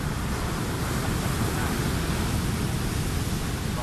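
Big sea waves crash and roar in rough, stormy weather, a steady loud broadband wash with wind buffeting the microphone throughout.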